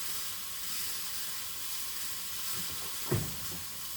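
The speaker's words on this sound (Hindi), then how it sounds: "अब इसके अंदर हम लोग जो है वो बेले हुए सीख कबाब डालेंगे और फ्राई" Rolled seekh kebabs frying in a little oil in a frying pan, a steady close sizzle and hiss, with a brief louder clatter near the end as a piece goes in.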